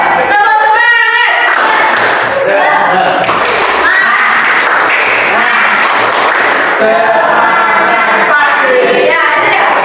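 A group of people at a school lesson perform the tepuk semangat clapping routine, rhythmic hand claps in patterned bursts mixed with chanting voices and talk, loud and close throughout.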